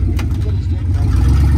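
A Dodge car's engine roars low and steady through a short burnout on plywood, a loud continuous rumble with a brief higher burst near the start; people talk over it.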